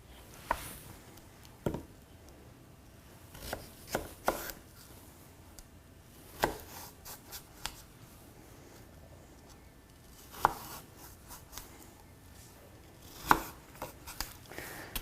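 A knife cuts apple slices in half into thin pieces on a board for a charcuterie spread, producing scattered soft taps and clicks, close but faint, over quiet room noise.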